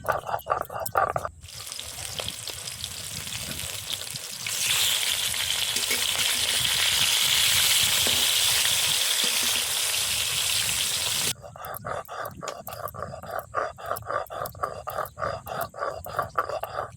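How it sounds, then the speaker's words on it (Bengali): Bhetki fish pieces fry in hot oil, giving a loud, steady sizzle that runs for several seconds, then drops to a lighter spattering crackle close by. "মাছগুলো এক এক করে ভেজে নেব।"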